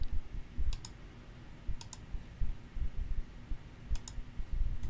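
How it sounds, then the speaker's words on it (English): Computer mouse clicking during digital matte painting work, several sharp, quiet paired clicks spaced about a second apart over a low background hum, close and isolated with no talking. "I'm clicking and holding shift so it would connect one point to another."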